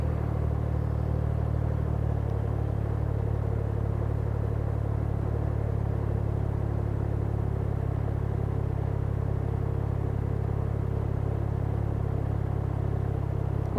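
A Can-Am Ryker 900 three-wheeler idles steadily right after ignition, a constant low engine rumble close by with no revving or talk across the whole stretch.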